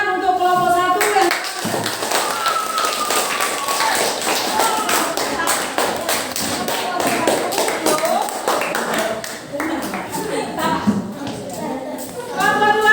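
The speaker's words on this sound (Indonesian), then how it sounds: "hari ini tepuk tangan untuk kelompok 1" Classroom of students clapping for a student group during a lesson, brisk scattered hand claps and taps filling the room, with voices of children mixed in.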